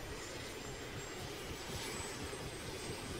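Helicopter flying in the video game DayZ, a steady, fairly faint broadband engine and rotor drone that holds constant throughout with no talk.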